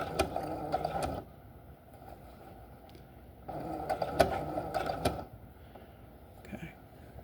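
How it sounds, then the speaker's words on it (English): A sewing machine stitches slowly over pins on linen fabric in two short bursts of whirring, with faint clicks, separated by quiet pauses and a small mechanical tap near the end. "I am going to attempt to sew over both of these pins, which is not recommended. I'm going to go really slow."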